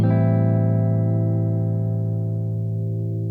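Sustained clean-toned chord from a budget Jet electric guitar, ringing loud and steady on its own and slowly decaying with no talk over it.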